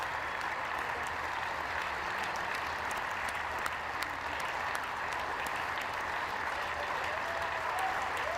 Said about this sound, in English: We're still clapping?